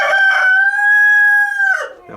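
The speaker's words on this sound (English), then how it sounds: "vocal rooster. Showing off again." A backyard rooster gives one loud, close crow, a long sustained cock-a-doodle-doo with a rough start and a drawn-out tail, alone with no talk.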